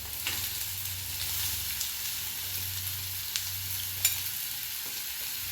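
Sliced onions fry with ginger in a pan for a prawn roast, a continuous soft sizzle with occasional spoon taps and stirring scrapes, steady and fairly quiet with no talking.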